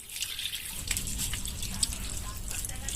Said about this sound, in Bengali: সোজা জল দেবো।